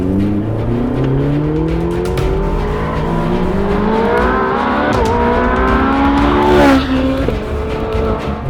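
A Ferrari 458 Speciale engine revs hard under throttle, a loud, continuous, rising howl whose pitch climbs steadily and then dips briefly before surging again, heard up close with no talking.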